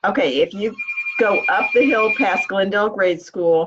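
A phone's bell-like ringtone chimes steadily for over a second, fairly clear, partly under a person talking nearby, with talk continuing before and after it.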